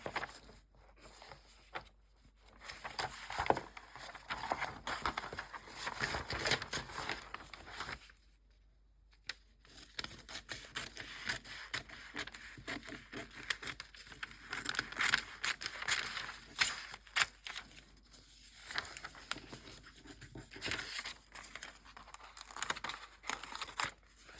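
Cutting a small piece off yellow craft material: crinkly rustling, snipping and papery tearing sounds come close up in irregular bursts, with a brief quiet gap partway through and no talking.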